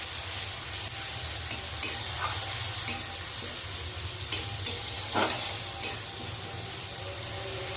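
Cumin powder and spice-jar rinse water stirred into a frying pan for chana dal with hing, a dense steady sizzle broken by occasional scrapes and clicks of a spoon, close and fairly loud throughout.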